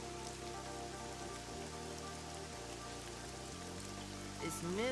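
Steady rain falls in the Neverwinter Nights video game, a continuous hiss of drops that runs under a layered musical score with sustained low tones and shifting chords.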